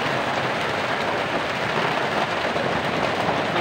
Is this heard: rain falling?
yes